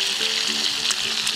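Chicken legs frying in a pan, a steady close sizzle with faint crackles and spatters, continuous with no talk.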